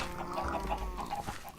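Chickens cluck repeatedly on a chicken farm in the game Minecraft Feed the Beast, a busy overlapping stream of fowl calls heard close and steady throughout.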